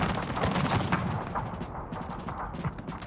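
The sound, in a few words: gunfire from Total Fots Carlist War video game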